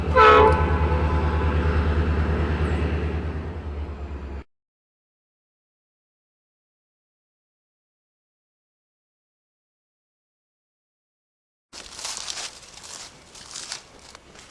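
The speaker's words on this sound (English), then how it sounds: "Today, you can still see trains pass through Henry County." A train rumbles past loudly in Henry County with a horn-like tone, then goes silent for several seconds before clattering rail noise returns.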